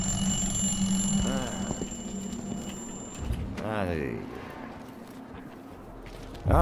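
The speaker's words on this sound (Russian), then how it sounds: "Будильник можно завести." A wind-up alarm clock being wound in the stealth game Dishonored 2, with a soft steady mechanical ticking-ratchet texture running through, under game ambience and brief voice-like sounds.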